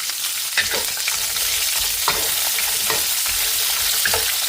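Green beans fry in neutral cooking oil for a garlic stir fry, a close, continuous crackling sizzle with scattered scrapes and knocks as they are tossed in the pan.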